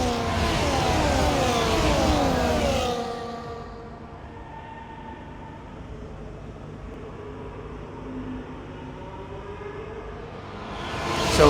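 F1 race cars in the EA Sports F1 game at the Baku street circuit in Azerbaijan, loud engine whine sweeping in pitch as cars pass on the main straight, easing to a steadier drone mid-clip and swelling again at the end.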